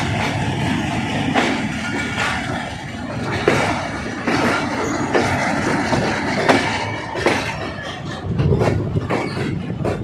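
The Pakistan Railways Ravi Express rolls along, a loud, close, continuous rumble with recurring clacks and knocks from the carriages.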